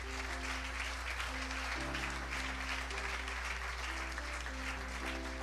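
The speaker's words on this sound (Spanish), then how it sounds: "Denle ese aplauso al Señor." A church congregation applauds during a Spanish-language sermon: steady, dense clapping fills the room throughout, with sustained organ or keyboard chords underneath and no one speaking over it.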